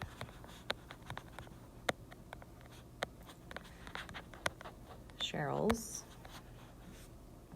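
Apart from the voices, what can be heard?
pen writing on paper or board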